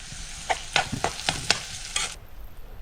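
River snails tipped into a spiced gravy with onion and tomato give a steady sizzle in the pan, broken by a quick series of sharp scraping stirs and clacks, close and moderately loud.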